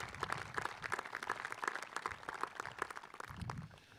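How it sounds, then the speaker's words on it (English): An audience at a South Ripley school ceremony gives a round of applause, a faint and somewhat distant wash of many hands clapping that holds steady throughout. "Let's give them a round of applause."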